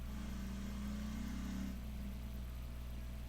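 A car engine straining and labouring in GTA Online, a steady low drone that holds a higher pitch briefly before settling back down, with no one talking.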